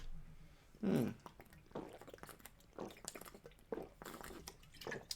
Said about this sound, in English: Nice chug of water there.